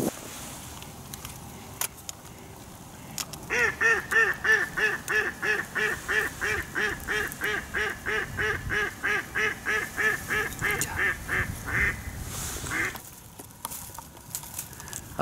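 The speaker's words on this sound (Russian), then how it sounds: "А тут прилетело сразу десяток уток." About ten ducks arriving on spring ice during a hunt, a long run of rapid, rhythmic quacking that builds and holds fairly close for several seconds, then breaks off into scattered calls amid quiet outdoor ambience.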